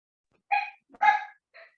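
A dog indoors barks at the postman: three short, sharp barks close by, the last one softer, with silence between.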